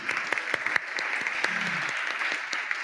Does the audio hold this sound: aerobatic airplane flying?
no